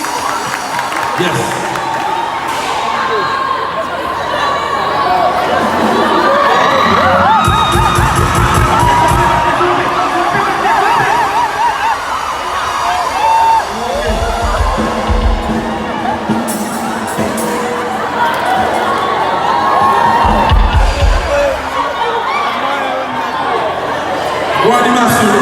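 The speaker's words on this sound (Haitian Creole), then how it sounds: "Applaudissez ce peuple." Lively crowd at a live foundation event with children, cheering, whooping and shouting in bursts, with heavy low thumps, loud and sustained under ongoing talk.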